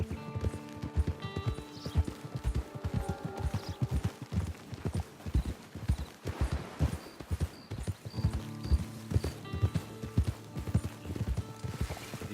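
A horse's hooves clip-clop in a steady walking rhythm throughout in Red Dead Redemption 2, close and distinct over a low background hum with faint tonal game sounds.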